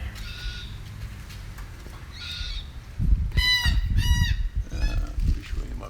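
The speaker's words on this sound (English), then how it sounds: "Show you these black cockatoos" Black cockatoos call from the trees: a few harsh, wavering cries carry from a distance, and wind and rustling handling noise sit underneath.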